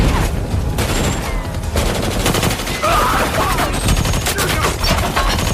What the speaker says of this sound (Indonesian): aksi tembak-tembakan pun terjadi lagi